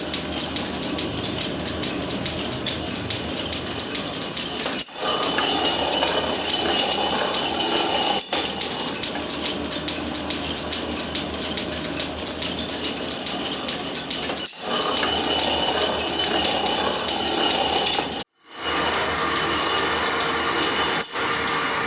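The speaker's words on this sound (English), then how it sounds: "That's the third pass on the planer now." A metal planer cutting a steel lug for a steam locomotive boiler band makes a continuous loud, broadband scraping roar. Brief breaks and clicks mark each stroke reversal at irregular intervals, with one sharp dropout near the end.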